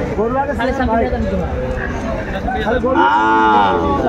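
Shahiwal cattle moo loudly and repeatedly nearby at a farm in Cox's Bazar, long drawn-out lowing calls overlapping with people talking in a busy crowd.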